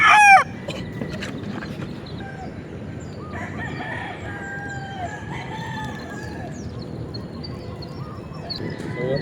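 Gamefowl roosters in a backyard: a loud crow bursts out right at the start, then softer clucks and calls carry on over a steady outdoor hum, with another rising crow near the end.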